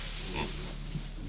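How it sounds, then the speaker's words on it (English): Pigs in a homestead pen grunt and oink in a brief, close cluster, a couple of low snuffling grunts over a steady rustling background, with no voices. "There's a lot of pigs in here, but it is fun with a lot of pigs, and they enjoy that."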